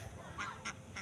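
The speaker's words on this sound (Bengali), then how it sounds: "এই যে একদল পাতি হাঁস বিল থেকে উঠে আসতেছে।" A flock of domestic ducks climbs out of a village marsh, giving three short, faint quacks spaced evenly over a low outdoor background.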